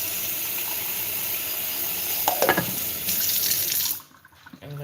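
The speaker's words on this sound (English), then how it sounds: "We put cold water on" Cold water runs from a kitchen tap onto raw eggs with a steady close hiss and splatter. The flow shifts partway and then cuts off near the end, leaving quiet room sound.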